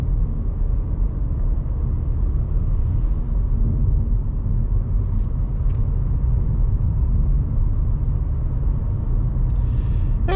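A 2025 Kia K4 with a CVT transmission drives along, its engine and road noise forming a steady, loud low rumble throughout with no distinct shift breaks evident.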